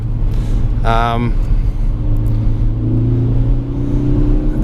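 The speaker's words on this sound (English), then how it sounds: "Just flooring it in third gear here." A 2017 Ford Focus ST driven hard in third gear on slushy, snowy roads, its engine droning loud and steady from inside the cabin as the revs climb, with a brief voice cutting in early.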